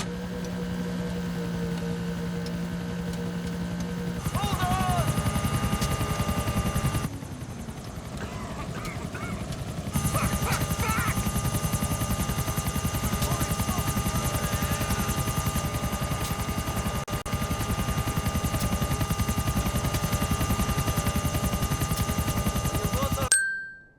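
Helicopter rotor thumping steadily in Grand Theft Auto IV, a loud continuous whirr with engine whine that drops out briefly mid-way and returns, carrying on to the end beneath game music.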